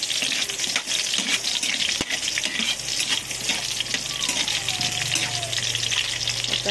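Onions frying in a pan for chicken liver and gizzard adobo, a steady close sizzle with crackling spatters and some stirring, alone without talk.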